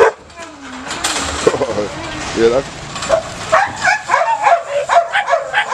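A young puppy, an 11-week-old female in protection training, barks and yips in a rapid series of sharp, close barks, with whimpers earlier and people talking over them.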